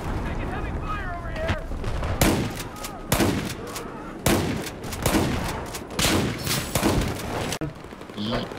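Gunfire in Battlefield 4, a dense run of loud shots and bursts firing in rapid succession throughout, with a voice talking over the battle.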